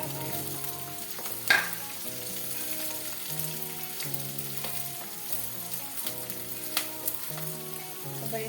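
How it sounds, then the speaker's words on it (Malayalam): Curry leaves sizzle and crackle as they go into hot oil for a Kerala-style fish pickle. The frying hiss is steady and close, with one sharp spatter burst, over tonal background music. "കുറച്ച് കറിവേപ്പിലയും കൂടെ ഇട്ട് കൊടുക്കാം."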